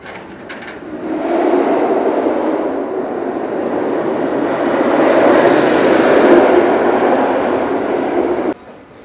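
A Runaway Mine Train roller coaster car at Six Flags Over Texas rumbles past on its track, a broad steady roar that swells and then cuts off abruptly near the end, with no voices over it.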